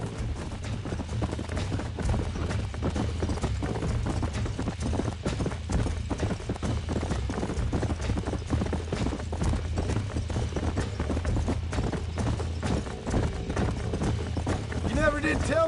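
Horses' hooves gallop steadily in the Red Dead Redemption video game, a dense, continuous drumming of hoofbeats that runs loud and close throughout, with occasional voices talking over it.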